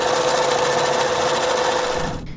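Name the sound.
sewing machine sewing satin binding on baby blanket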